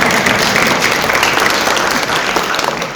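An audience at a conference on Europe's democracy applauds loudly and steadily, dense clapping filling the hall throughout with no voice over it.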